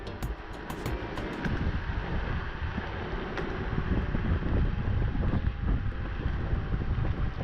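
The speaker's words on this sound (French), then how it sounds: "il y a aussi le vent qui me tape là" Wind buffeting the microphone of a rider on an Urbanglide E-Cross Pro electric scooter at speed, a steady roaring rush with low rumble and gusty swells throughout, no talking.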